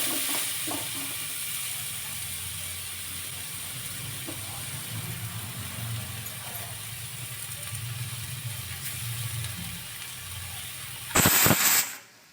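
Chili paste hits hot oil seasoned with a pinch of asafoetida and gives a steady, moderate sizzle that holds for several seconds. A brief louder clatter comes near the end.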